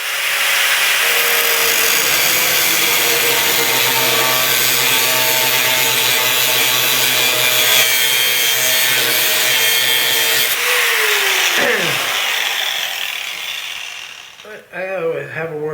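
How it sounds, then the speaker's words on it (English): An abrasive blade grinding steadily through steel while the cutter rocks back and forth, making a loud, continuous harsh whine with a rising drone that stops near the end. "What happens when you're cutting through a steel with one of these abrasive blades is it's wearing through the metal"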